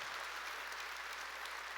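Congregation applauding during a church service, steady dense clapping throughout, moderately distant and even, with no speech over it.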